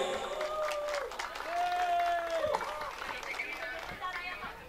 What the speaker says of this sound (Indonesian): Hadirin dimohon tepuk tangan semuanya.